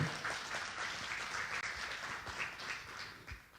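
A church congregation applauds for the Lord during a sermon, with dense, steady clapping that fills the room throughout.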